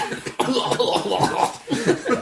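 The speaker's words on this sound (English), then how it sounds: "all your sick sounds and coughs" A few rough coughs break out in quick succession, close and fairly loud, with a brief throaty pause between bursts.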